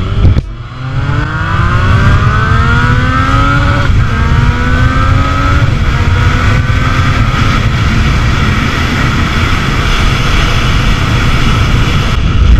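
A loud Yamaha MT-09 motorcycle engine revs hard in its A mode, pitch climbing through several quick gear shifts, then holding a high, roaring drone close by.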